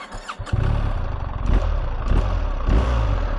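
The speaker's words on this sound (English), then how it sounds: "Now obviously we've got the QD exhaust on, just to slip on. Let's have a little listen." A BMW R1300GS boxer-twin engine fitted with a QD slip-on exhaust starts up and then idles, a deep steady rumble with a few light blips of throttle, loud and close.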